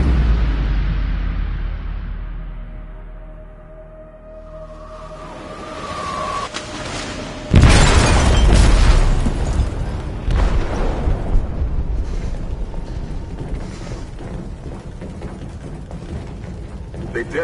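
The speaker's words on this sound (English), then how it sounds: "They detonated an explosive in the hold." Explosion in a ship's hold in a video game, a sudden heavy boom that bursts in after a low rumbling lull, followed by crackling debris and a long roaring, rumbling tail.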